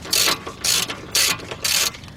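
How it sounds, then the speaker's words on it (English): A hand ratchet loosening a strut bolt and nut on a 2010 Honda Accord 2.4, four crisp clicking bursts in an even back-and-forth rhythm, close and loud. "take this bolt out, take the nut out, loosen it up"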